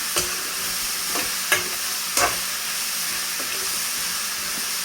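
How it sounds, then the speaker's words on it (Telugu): Vegetables for beerakay pappu, ridge gourd with onion and green chilli, are stirred in a cooking pan, a steady hiss with a few spaced scrapes and knocks of the spoon and no talking. "అన్నీ కలిపేటట్టు ఒకసారి మిక్స్ చేసుకోవాలి."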